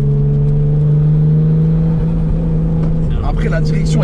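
A Nissan R33 Skyline GTS-t engine rumbles and revs with a deep, steady throaty drone, loud and close, with faint voices underneath.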